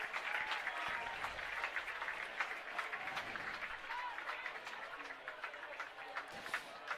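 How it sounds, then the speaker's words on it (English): The crowd at Bazelon Field gives a warm hand of applause as an injured football player is helped off; the clapping is distant but steady and lasts several seconds, with faint talk underneath. "He gets a nice hand from the Bazelon field crowd"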